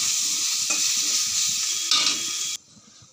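Spinach curry is stirred in a pan with turmeric and salt, a loud continuous frying sizzle with scraping stir strokes that cuts off sharply near the end, leaving a faint hiss.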